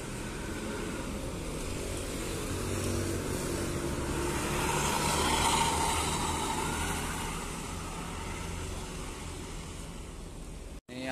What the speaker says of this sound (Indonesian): Ini ada dua bus sekaligus nih